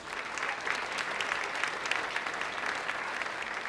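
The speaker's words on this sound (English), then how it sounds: "Let's give them all a round of applause" Luncheon audience applauding the sponsors, a continuous, even patter of many hands clapping at moderate distance for the whole stretch, fairly soft overall.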